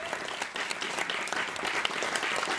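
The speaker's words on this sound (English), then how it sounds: "let's give a round of applause for our sponsors" A live audience applauds its season sponsors at a dating-game stage event, steady dense clapping filling the room from start to finish with no voices over it.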